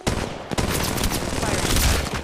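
Rapid automatic gunfire rattles continuously in Apex Legends Mobile, with dense overlapping shots and impacts loud and close, and a voice speaking under the barrage.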